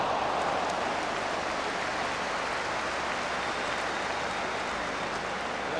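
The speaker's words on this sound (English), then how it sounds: "he gets the applause" Stadium crowd applause after a Laudrup solo run in a Rangers versus Hibs football match, a steady dense roar of clapping and cheering held at full level throughout.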